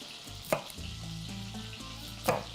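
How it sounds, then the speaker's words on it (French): Butter melts in a pan for a broccoli casserole, giving a steady, soft sizzle that runs throughout. Two sharp clinks of a utensil against the pan sound near the start and near the end. "Puis le beurre qui fond"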